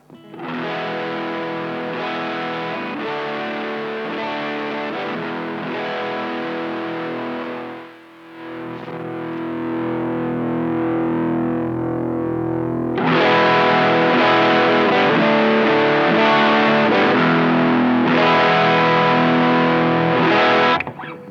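Electric guitar chords played through a Guyatone TD-1 tube distortion pedal with knobs at noon, thick and sustained, with a brief dip before a louder, brighter stretch of crunchy strumming.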